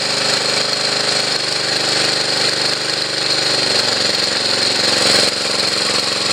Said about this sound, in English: That's a really nice slow idle.